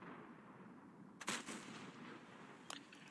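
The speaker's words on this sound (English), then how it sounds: "I did 175 damage on that shot." A single tank cannon shot in World of Tanks, a sharp loud blast followed by a fainter secondary crack, over quiet game ambience with no talk.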